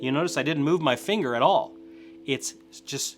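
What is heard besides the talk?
No everyday noise stands out behind the speech.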